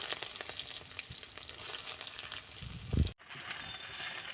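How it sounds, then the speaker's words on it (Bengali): Chopped onion fries with dried chili and bay leaf in oil, giving a soft continuous sizzle with scattered clicks as it is stirred, ending in a louder clatter against the pan. "এখানে নেড়ে নেব, হালকা করে ভেজে নেব।"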